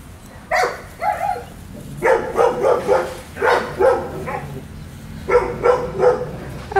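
A dog reacting to a litter of puppies, giving a series of soft, whimpering yips and short muffled barks in uneven clusters, close by, with brief pauses between bursts.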